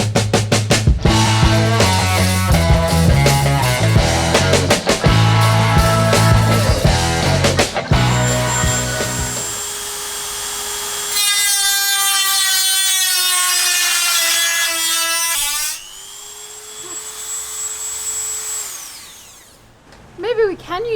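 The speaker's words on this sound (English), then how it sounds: "I've got the Dremel out with the standard metal cutting disc," A Dremel rotary tool with a standard metal cutting disc cuts around a rusty hole in a roof, giving a loud, close, high whine whose pitch sags and climbs as the disc bites, tapering off at the end.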